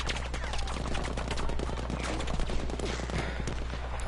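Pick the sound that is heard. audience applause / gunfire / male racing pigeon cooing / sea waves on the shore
gunfire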